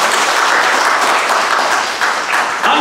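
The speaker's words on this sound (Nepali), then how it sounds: "प्रभु हामी ताली बजाएर धन्यवाद दिन्छौँ" A church congregation claps their hands together in loud, dense, continuous applause during a worship service, filling the whole moment without speech.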